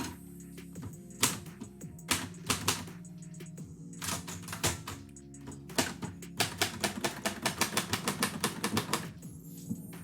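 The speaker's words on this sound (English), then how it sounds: "I have a new typewriter set up here" Sharp keystrokes clack on a typewriter as a haiku is typed, irregular at first and then a faster run of strikes, close and crisp, with no talking.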